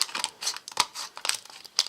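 A Pokemon booster pack's foil wrapper is torn open up close, giving a rapid series of sharp crinkles and rips in irregular bursts.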